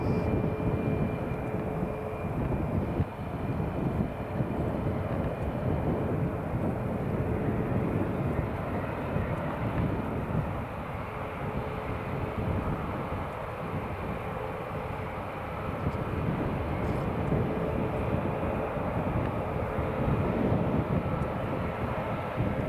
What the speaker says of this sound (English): here goes the Ryanair